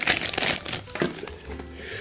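Plastic packaging crinkles around the power adapter of a Lenovo Smart Clock: a loud, close burst of crumpling at the start, then softer rustles and tearing that fade toward the end.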